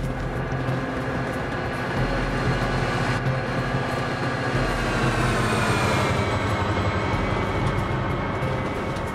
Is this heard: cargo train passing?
yes